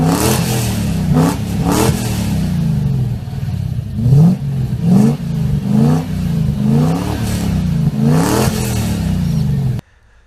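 Engine of an old car revving repeatedly, loud and close, with rising and falling pulls and short pauses between blips, then cutting off abruptly at the end.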